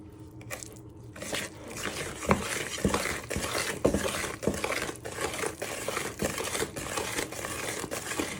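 Cake batter for a red velvet cake whisked in a bowl, a busy, rhythmic scraping and clinking of the whisk against the bowl that continues steadily at close range.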